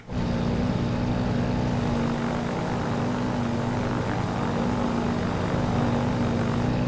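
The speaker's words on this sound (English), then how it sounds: "the plane is just purring along. It's not even that loud" A propeller airplane engine drones steadily at cruise, a smooth, even hum with a low tonal throb, continuous and close.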